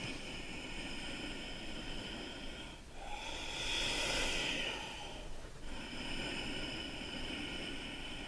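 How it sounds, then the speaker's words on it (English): Slow, deep breathing during a quiet yoga practice, a single long rushing breath swelling and fading in the middle over a steady background hiss, close and soft. "Three more breaths."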